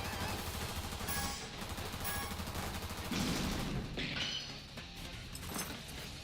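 Enemy gunfire in a video game, a dense continuous burst of rapid shots and crackling impacts that stays loud throughout, with no voices.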